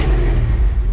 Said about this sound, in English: She runs. She's idling.